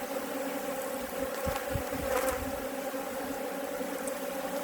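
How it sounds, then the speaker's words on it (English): A large swarm of honeybees buzzes densely around an empty brood box, a steady close, loud drone with individual bees zipping past the listener, no talking. "I'm completely covered in bad temper bees"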